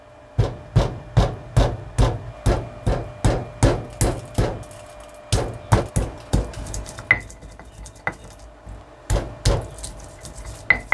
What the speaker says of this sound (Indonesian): Ini yang mau tak ulek dulu adalah kemiri dan kunyitnya.